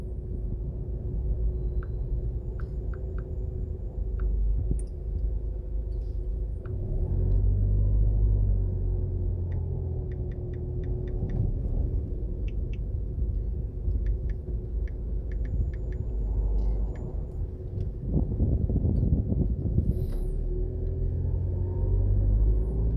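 Car driving along Howard Cook Boulevard in Montego Bay, Jamaica, a steady low engine and road rumble with faint ticking throughout, alone without talk.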